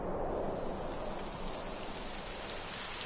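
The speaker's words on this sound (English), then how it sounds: "It would have to go and start raining, wouldn't it?" Rain sets in during a Dragon Quest XI game scene as a steady, dense hiss of falling rain that holds evenly throughout at moderate loudness.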